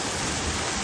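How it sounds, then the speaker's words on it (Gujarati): Morning rain falls on grass as an even, unbroken hiss of drops, steady and moderately loud with no other sounds standing out. "દિવ્ય અને ભવ્ય આજે વરસાદ આવ્યો."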